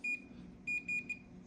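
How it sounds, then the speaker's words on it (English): A flaw detector's alarm tripped by noise, sounding as short, thin, high electronic beeps: one, a pause, then three more in quick succession over a low background hum. "That way noise won't be setting off your alarm constantly"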